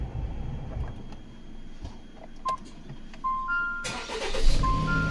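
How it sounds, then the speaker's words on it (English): A 2018 Jeep Compass with auto stop-start faults gives a brief starter click but does not crank. Faint mechanical clicks and short electronic chime tones sound inside the car, with no engine running. "you hear that click and then it doesn't go anywhere"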